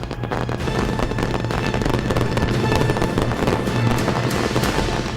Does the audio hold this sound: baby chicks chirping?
no